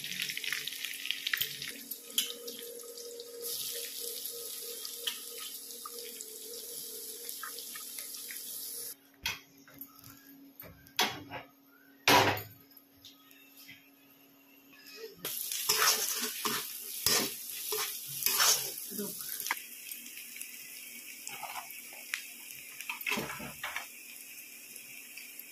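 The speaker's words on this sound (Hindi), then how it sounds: "बस थोड़ा सा जीरा डाल दिए, लहसुन डाल दिए, साथ में हरी मिर्च डाल दिए।" Cumin, garlic and green chillies frying in a home kitchen pan give a soft, steady sizzle with scraping stirs and a few light clinks. The sound stays fairly quiet throughout and no one speaks.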